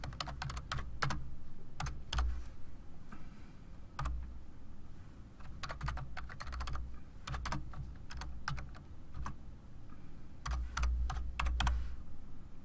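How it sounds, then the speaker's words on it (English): Quiet keyboard typing at a computer, bursts of rapid key clicks separated by short pauses, close and alone without voices. "Now from here we can start typing our address."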